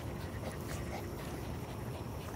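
A dog pants in quick, breathy puffs close to the microphone, with faint whimpering mixed into a broad noisy background.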